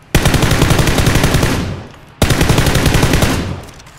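Sustained automatic gunfire in the battle-royale video game PUBG, two loud, close bursts of rapid shots, the first lasting about two seconds and the second after a brief gap, with no talking.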